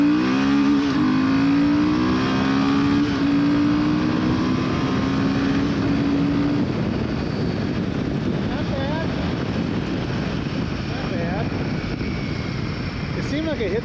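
Engine of a 2025 Royal Enfield Himalayan 450 motorcycle revving hard up toward its rev limiter, a loud close rising drone that climbs steadily then continues as a busy mechanical roar, with talk heard over it.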